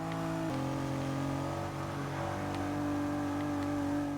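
A steady Pontiac Aztek engine drone in the racing game Forza 6, with a shift in pitch partway through, revving continuously without pause; no talking.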